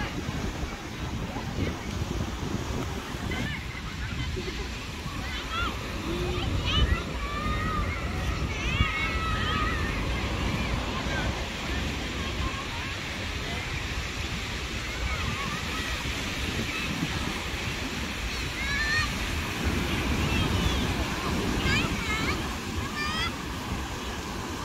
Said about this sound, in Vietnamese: buổi chiều bãi biển Ở Quảng Bình Không đông lắm